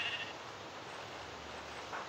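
A sheep bleats in the Minecraft video game: a short, fairly loud bleat over a steady hissy background, with no talking.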